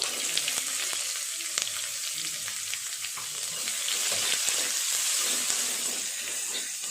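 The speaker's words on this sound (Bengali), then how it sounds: "পেঁয়াজটা একটু লাল করে ভাজা করে নেব" Chopped onion sizzling steadily in hot oil tempered with a bay leaf, a dried red chilli and cumin, a continuous close frying hiss with occasional crackles and stirring, no voices.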